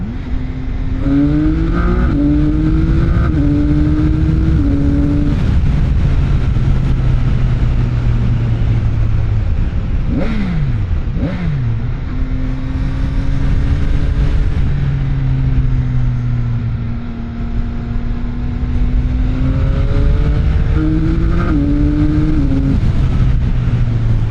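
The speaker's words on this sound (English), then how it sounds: "the sound of the bike, it gives you that true superbike feeling" A CFMOTO 675SR-R sport motorcycle on a test ride revs loudly and continuously, its engine note rising and falling through gear changes with a brief sharp blip near the middle, up close.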